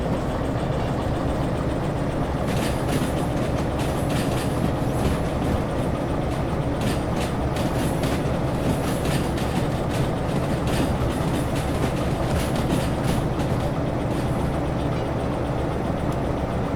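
DE2 diesel locomotive shunting in Derail Valley, a steady low engine rumble with rail rattle and faint clicking, continuous and fairly close throughout.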